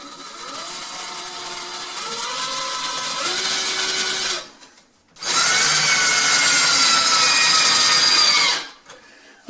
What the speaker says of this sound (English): now I snugged it down with the drill